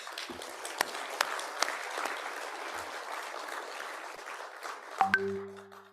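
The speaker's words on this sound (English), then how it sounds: "Let's give a round of applause for all of us." Scattered, light applause from a summit audience at the C20 civil society gathering in a Bali resort hall, fairly faint, ending with a chime-like tone near the end.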